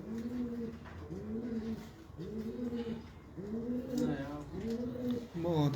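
A prized new pigeon of a Bahawalpur fancier's flock gives about five rounded, rhythmic coos in quick succession, close and clear, each phrase rising and falling in a steady pattern.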